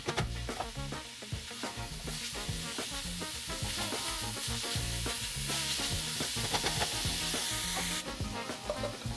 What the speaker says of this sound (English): just throw those veggies in there and you're going to saute them